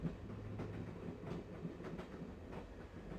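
Train rolling along rails, a steady rumbling drone with faint rhythmic clicks from the wheels, moderately distant and consistent throughout.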